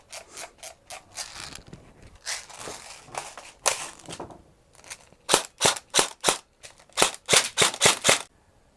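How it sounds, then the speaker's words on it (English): An airsoft gun test fired after its hop-up unit, bucking and nub were replaced, a string of sharp mechanical snaps that starts as spaced single shots and speeds up into quick, loud bursts. "let's test fire it and see if it's working any better"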